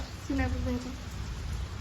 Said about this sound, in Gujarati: આજ તો બહુ જ વરસાદ ચાલુ છે